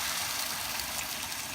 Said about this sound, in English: Let's put some broth.